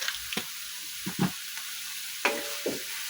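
Soy sauce sizzles in a pan of adobong sitaw, with a steady frying hiss broken by a few close, sharp clicks and scrapes of stirring, and no talk.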